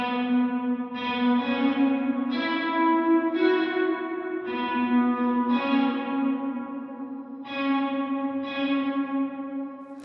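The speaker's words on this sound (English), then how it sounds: "Later, we hear that reverb come in" Plucked guitar strings ring out through a reverb effect set to a 200 millisecond pre-delay, a series of sustained notes and chords each struck and left to bloom, loud and close with no talking.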